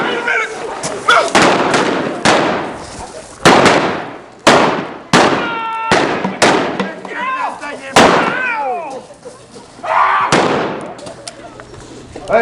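Blank-fired guns in a staged Ghost Town gunfight show, a series of loud sharp shots spaced irregularly, some in quick pairs, with reverberant tails and shouting voices between them.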